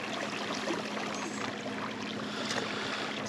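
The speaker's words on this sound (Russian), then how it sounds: "Скорость приличная выходит на этой лодке с электромотором." A small boat driven by a Minn Kota electric trolling motor glides across a lake, giving a steady broadband rush of water and wind with a faint constant motor hum beneath, unbroken throughout.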